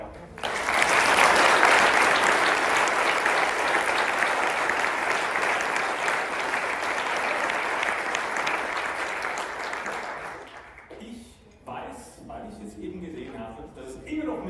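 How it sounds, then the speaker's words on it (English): Sustained audience applause for speaker Aga at the end of a talk at World Usability Day CH 2023, a loud, dense roomful of clapping lasting about ten seconds before fading into murmuring voices. "A big applause for Aga."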